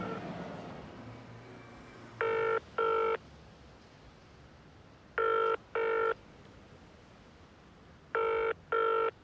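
Telephone bell ringing in three double bursts spaced a few seconds apart, loud and clear over a quiet room background with low rumble.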